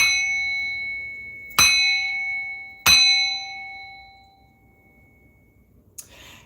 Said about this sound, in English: I'm going to ring this bell and remove the negativity for the atmosphere